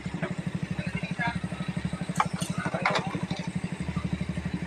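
Water pump running beside a DIY fish pond, a steady fast chugging engine-like pulse, close and continuous, with faint clatter and background voices over it.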